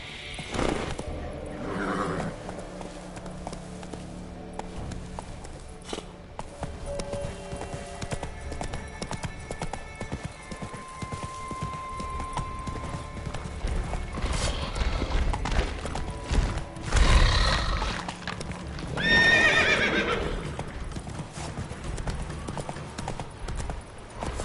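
A horse named Roach clip-clops steadily at close range, with loud neighs and whinnies rising near the end and a quiet voice briefly in the background.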